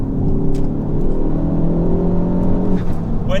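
Revo Stage 2 tuned Mk4 Ford Focus ST making 410PS, the engine revving hard and changing up a gear, a loud, close, droning rasp that climbs, then drops in pitch at the shift.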